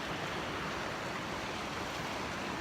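A river in Tuolumne Meadows, Yosemite, rushes in a steady, dense wash of flowing water, loud and even throughout with no pauses and no voices.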